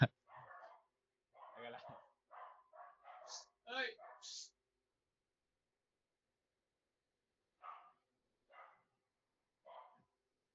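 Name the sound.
dogs barking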